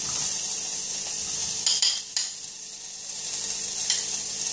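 Carrots sizzle in an already hot pan, a steady bright hiss broken by a few scraping stirs and clinks of a utensil against the pan.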